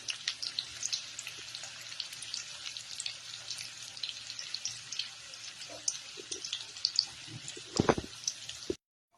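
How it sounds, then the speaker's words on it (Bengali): Chopped onion sizzles steadily in a hot pan, frying toward golden, with a dense crackling hiss throughout and a brief louder clatter near the end before it cuts off. "এবার গোল্ডেন ফ্রাই হওয়া পর্যন্ত কিন্তু পেঁয়াজটাকে আমি ফ্রাই করবো"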